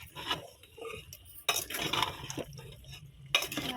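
A spoon scraping and clinking against a pot while stirring chicken and potato curry, several distinct close stirring strokes with metallic clatter and brief pauses between them.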